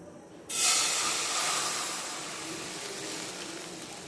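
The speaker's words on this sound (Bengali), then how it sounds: "এদিকে চুলাতে আমি কড়াই বসিয়েছি দিয়ে দিব এক কাপ জল" A cup of water poured into a hot wok on the stove, for a green mango Kashmiri pickle, erupts in a sudden loud hiss that then settles into a long, steady steaming sizzle, up close.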